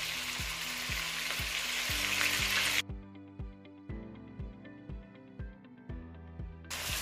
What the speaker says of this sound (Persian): یک کمی که پیاز تفت خورد، سیر رو بهش اضافه میکنم.